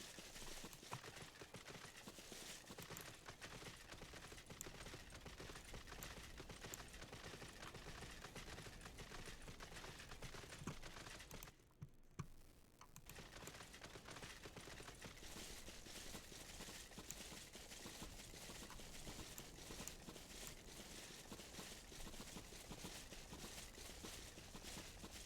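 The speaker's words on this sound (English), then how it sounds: "Gently galloping through the desert." Horse hooves galloping across desert ground in a video game, a continuous rapid patter of clip-clop beats, loud and steady, with a brief dip midway before the rhythm resumes.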